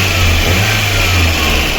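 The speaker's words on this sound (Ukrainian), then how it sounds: "Ось так працює наш двигунчик." A repaired VAZ 2110 car engine running at operating temperature, a loud, steady mid-pitched hum with a low drone, close up and uninterrupted, with no talk.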